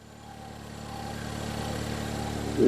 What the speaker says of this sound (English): This thing's got some exhaust noise, that's for sure.